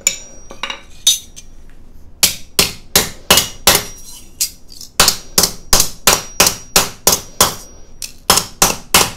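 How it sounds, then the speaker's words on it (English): A rawhide hammer flattens a curved piece of metal for jewelry making, with about twenty sharp, close, loud strikes, some spaced and others in quick bursts. "I'm gonna take the rawhide hammer and flatten this out"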